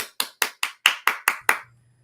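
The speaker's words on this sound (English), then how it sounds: "Let me do my applause." Eight crisp, evenly spaced hand claps from a single person ring out close and loud, followed by a brief faint hum.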